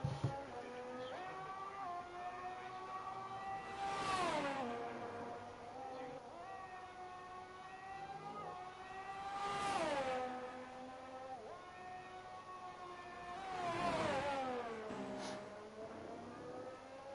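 Alpine race car in F1 23 lapping Imola, its engine note climbing through rising harmonics and dropping on each of three heavy braking points, a steady loud whine with a pass-like swell roughly every five seconds.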